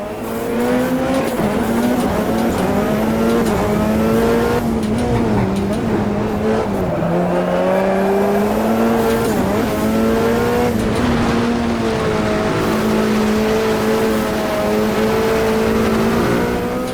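Formula Dirt open-wheel off-road racer in Automobilista 2 drives continuously with a loud, close engine note rising and falling through gear changes and revs, with tire noise over dirt and some speech underneath.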